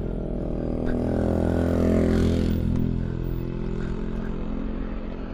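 A motorcycle strains up a steep uphill road, its engine droning loud and steady with a harmonic whine that builds to a peak and then eases slightly, accompanied by faint clattering.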